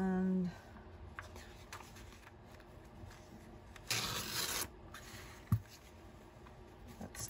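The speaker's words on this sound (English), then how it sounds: "let's tear a piece to fit the back somewhat" A piece of junk journal paper torn by hand in one short, close ripping burst, heard alone during a pause in nearby speech.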